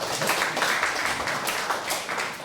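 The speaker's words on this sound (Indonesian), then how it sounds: "Halo, tepuk tangan untuk Necak." An audience at a talk on karma and Borobudur claps throughout, a continuous, even patter of many hands at moderate loudness with no pause.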